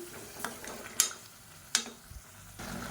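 A spoon stirs a masala and water mixture in a pot, giving soft scraping and a few sharp clinks against the metal, quiet and close, over a faint simmering hiss.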